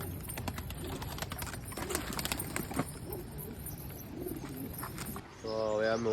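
Pigeons coo in a loft of newly bought racing pigeons, soft repeated calls layered over a busy outdoor background with clattering noise, and a louder, clearer coo swells near the end.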